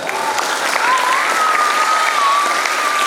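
A lecture audience at a public Islamic education talk claps together in a dense, steady burst of applause lasting a few seconds, with a faint whistle-like tone running through it.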